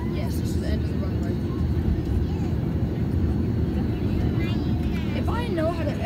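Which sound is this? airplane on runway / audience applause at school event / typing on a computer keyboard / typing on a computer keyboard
airplane on runway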